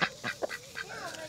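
A small white duck in a vegetable garden gives a quick series of short nasal quacks, several brief calls in just over a second, moderately close with faint background sounds.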